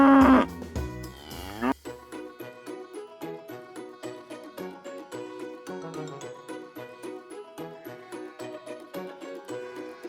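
A cow gives a drawn-out moo near the start, followed by bright, steady background music with a plucked, bouncing rhythm that carries on to the end.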